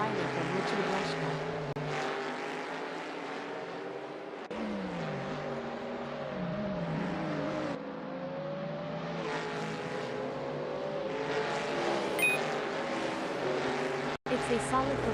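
Sprint race cars in a sim racing video game whine and rise and fall in pitch as engines rev through gear changes, a continuous layered drone with a commentator talking over it.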